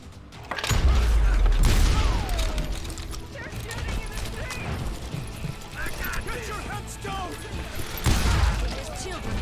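Shotgun blasts and gunfire in the Western shooter Call of Juarez Gunslinger: heavy booming shots near the start and again near the end, with mechanical clatter and scattered shots between, all under a talking voice.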